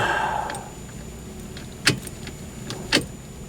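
A Chrysler key jangles at the ignition of a Plymouth Barracuda, giving a couple of short metallic clinks against a quiet background.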